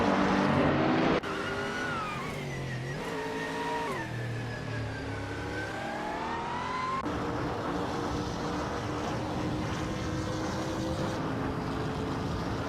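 A 2018 Ford Mustang GT4 race car engine in a racing video game, revving and shifting through gears with rising and falling pitch, loud and steady throughout with no talking.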